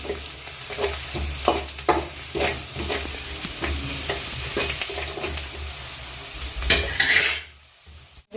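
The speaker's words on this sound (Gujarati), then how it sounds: "ચપટી હિંગ એડ કરીશું અડધી સબ્જી દાણા જીરું પાવડર બધું મિક્સ કરી લઈશું" Potato filling fried in a pan while spices are mixed in, with steady sizzling and repeated scraping stir strokes of a spoon against the metal, close and fairly loud, ending abruptly.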